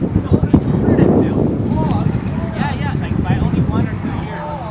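Gusty wind in Waikiki, Hawaii buffets the microphone in heavy low rumbles while a person talks over it outdoors, with faint whistling tones in the background.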